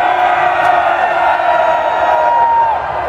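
A large open-air metal festival crowd at Summer Breeze Open Air cheers and roars continuously in response to a band on stage, a dense, loud, sustained wash of shouting and whooping voices without pause.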